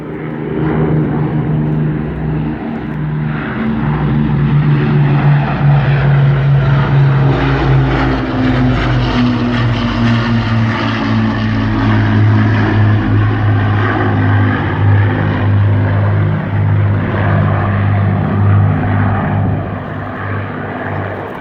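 A Lancaster bomber and a Hurricane fighter fly past together at the Southport Air Show, their propeller engines making a loud, sustained droning roar that swells and holds throughout.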